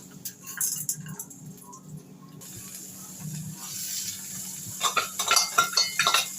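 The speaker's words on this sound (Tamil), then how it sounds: "கடுகு போட்டாச்சு, கடலைப்பருப்பு," Mustard seeds and chana dal frying in a pan for a carrot poriyal: soft background frying with scattered clinks, then sharp popping and crackling near the end.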